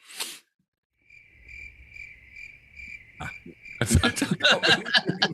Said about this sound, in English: I actually heard crickets outside there as well